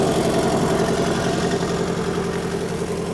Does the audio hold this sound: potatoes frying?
no